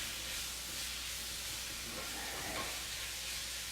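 Onions cooking in a regular sauté pan on a stovetop burner, a constant broadband hiss and sizzle at steady level throughout, with no one speaking.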